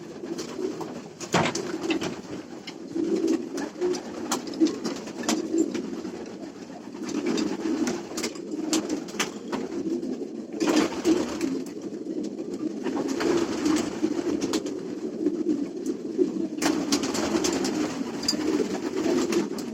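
Many racing pigeons cooing together in a steady low murmur, with occasional scratching and flapping sounds close by.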